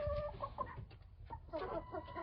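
A rooster clucks softly in short, low bursts nearby, a few murmuring calls in a quiet setting.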